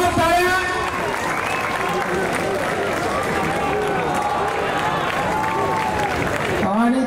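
Crowd applauding and cheering for a women's Govinda human-pyramid team at a Dahi Handi festival in Kankavli, a loud continuous wash of clapping and crowd noise with voices mixed in throughout.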